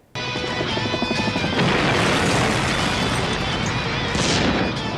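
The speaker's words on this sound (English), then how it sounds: "Michael Bay presents Explosions!" A sudden, heavy movie explosion from an animated Michael Bay parody erupts into a sustained, thunderous rumble, loud and close, with blasts rolling over one another.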